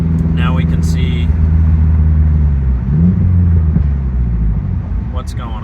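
A car driving on the road after new tension rod bushings were fitted, steady low engine rumble with gear changes and faint rattles heard from inside, with someone talking over it.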